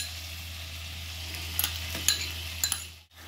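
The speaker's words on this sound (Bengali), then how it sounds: "আদা রসুন দেওয়ার পর জিনিসগুলোকে আবার মিক্স করে নেব সবগুলোকে একসাথে।" Chicken kosha with ginger-garlic paste is stirred in a pan over a steady soft sizzle. A utensil scrapes and clinks against the pan several times, close by, with no talking.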